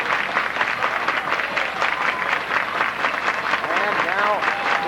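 Home crowd cheers and claps steadily at a 1999 high school basketball game between Wethersfield Flying Geese and Abingdon Commandos, a dense, continuous roar under a commentator's voice, with a few shrill whistles near the end.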